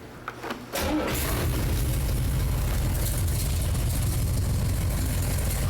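A motorhead garage car engine cranks over and catches, then settles into a steady, loud, close idle that rumbles on without a break.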